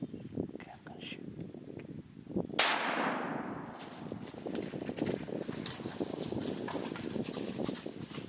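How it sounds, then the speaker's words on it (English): A single loud hunting-rifle shot cracks out during a hunt, followed by a long decaying echo rolling across open terrain, with hushed voices and rustling around it. "okay, I'm gonna shoot."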